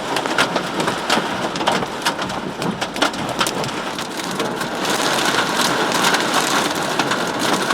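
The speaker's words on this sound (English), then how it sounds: "Getting some small hail right now in the middle of downtown St. Peter, Minnesota." Small hail and heavy rain pelt down in downtown St. Peter, Minnesota during a storm, a dense, loud, steady hiss of ice pellets and drops striking hard surfaces, with sharp close impacts ticking through and no voices.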